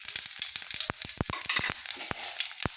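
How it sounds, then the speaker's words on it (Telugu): Cumin seeds frying in hot oil in a kadai for a curry give a crackling sizzle, with a rapid, irregular run of sharp pops over a continuous hiss, close and clear with no talking. "ఇలా బాండి పెట్టుకొని ఆయిల్ వేసుకున్నామండి కర్రీకి సరిపడా. ముందుగా కొంచెం జీలకర్ర,"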